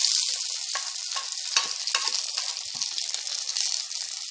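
Hot tempering of curry leaves and chopped shallots poured sizzling into mashed vallarai greens in a clay pot, a steady loud hiss with crackles, close by and without talk.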